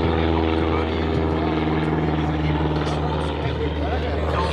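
Loud, steady droning buzz of an ultralight aircraft engine running close by, a constant propeller hum with no pauses.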